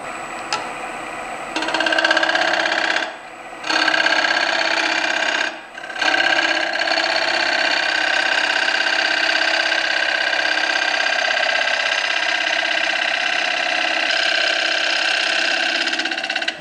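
A wood lathe turning an out-of-balance rough-turned elm bowl at about 1,000 RPM hums steadily while the tool rasps in a continuous push cut, broken by two brief pauses near the start.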